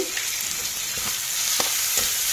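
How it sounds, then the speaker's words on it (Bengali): Chicken curry with garlic paste sizzling steadily in hot oil, with soft intermittent scrapes and clicks as it is stirred. "আবার একটু নাড়িয়ে নেব, যাতে এগুলো কোনো কাঁচা ফ্লেভার না থাকে।"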